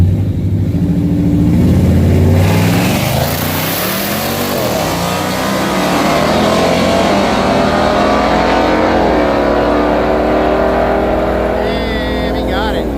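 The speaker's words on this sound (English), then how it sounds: "Supercharger sounds nice. SRT Cherokee." A supercharged SRT Cherokee roars at a drag strip, loud and close, rising through revs with a whining blower over the exhaust, while people talk nearby.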